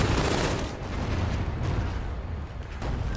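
Dense, continuous SMG fire from Call of Duty: Infinite Warfare rattles loudly throughout, with no voices over the steady burst of shots.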